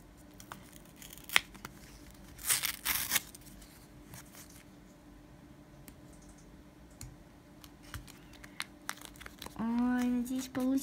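Intermittent crinkling and rustling of a plastic eyeshadow packet being opened, with scattered clicks and snips in a quiet room.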